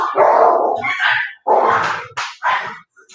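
Dogs bark and yip outside in a quick series of loud, close barks with short gaps between them.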